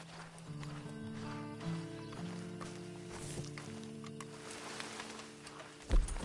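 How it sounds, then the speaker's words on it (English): Horse hooves clip-clop in Red Dead Redemption, a steady trot under sustained game music and ambience for about six seconds, ending in a louder thump or snort near the close. "Then you better get on this horse."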